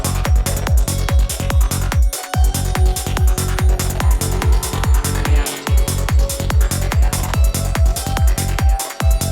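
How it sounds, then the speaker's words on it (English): A music idea blending sitar with flute plays over a steady, punchy beat, with deep thumping kicks in regular rhythm, plucked twangy notes and a sustained breathy melody running on top, loud and continuous. "we're essentially combining the sitar that we heard before with the flute that we heard in the very beginning"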